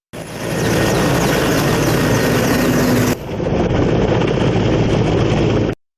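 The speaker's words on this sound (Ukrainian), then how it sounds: "далі переліт на вертольотах до визначених пунктів" A military helicopter carrying soldiers in flight, its loud, steady rotor and engine roar filling the whole stretch with wind-like rush, shifting slightly in tone midway before cutting off at the end.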